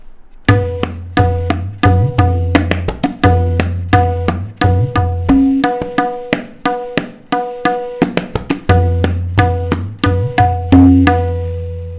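Tabla drums play a kayda variation, crisp strokes and resonant bass tones in repeating cycles with small variations, close and clear with no talking.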